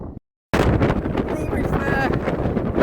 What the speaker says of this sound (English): Just wish it wasn't so windy.